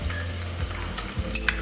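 Garlic ginger paste drops into onions frying in hot oil for a cabbage sabzi, giving a steady close sizzle with a couple of stirring scrapes and small pops near the end.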